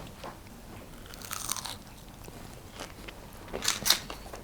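Close, crisp crunching as someone bites and chews sesame-coated dim sum at a hotel buffet, soft chewing punctuated by a few sharper crackly bites, the loudest near the end, with no talking.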